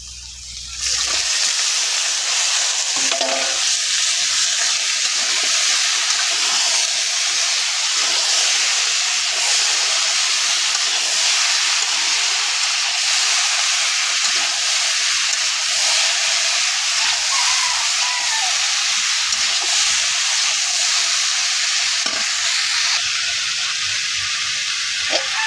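Dried fish and vine stems being stir-fried in a pan, giving a loud, constant hissing sizzle with occasional stirring scrapes for the whole stretch, no talking.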